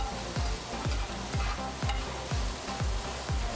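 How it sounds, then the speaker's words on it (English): Bacon fries in a pan with a soft sizzle beneath repeated stirring or scraping strokes, roughly two per second, each a short sweeping swish close to the listener. "Cook that bacon thoroughly."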